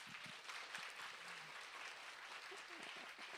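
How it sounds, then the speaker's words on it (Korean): An audience applauds a church worship team at a university worship service, a steady, fairly faint wash of many hands clapping together, with a few voices faintly underneath. "우리 워십팀에게 한번 박수 한번 칠까요?"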